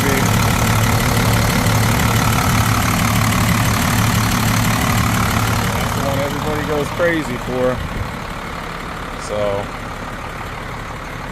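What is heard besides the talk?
Dodge W350 truck with 12-valve Cummins turbo diesel idling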